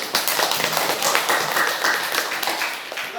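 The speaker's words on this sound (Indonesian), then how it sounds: "kita kasih aplaus dulu" A group claps after a class discussion presentation, the applause a steady, moderately loud patter of many hands lasting the full stretch, with a few sharper individual claps standing out.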